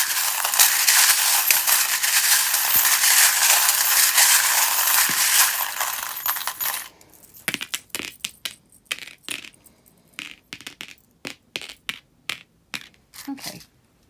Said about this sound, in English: if you don't like the sound of the charms, just because they can be a little bit loud while I shuffle them